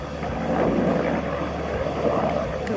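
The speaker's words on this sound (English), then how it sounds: "Sheriff's helicopter not looking for us." A sheriff's helicopter's rumbling engine and rotor drone overhead, steady and fairly loud, swelling slightly then holding.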